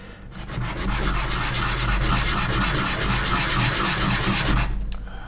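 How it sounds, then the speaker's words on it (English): Coarse 100-grit sandpaper rubbing steadily over a 1/24 scale MPC General Lee model car body, a continuous close rasping scrape lasting several seconds with a fine rapid back-and-forth texture. "to get this reduced, I'm going to use a coarse grit,"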